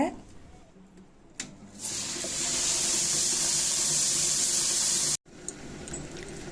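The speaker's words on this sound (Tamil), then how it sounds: "ஸ்டார்டிங்கில் கொஞ்சமாக தண்ணி தெளித்து அரைச்சிக்கோங்க." A kitchen grinder churns millet idli batter while a little water is sprinkled in. The loud, steady whirring hiss runs for several seconds, cuts off abruptly, then resumes more quietly.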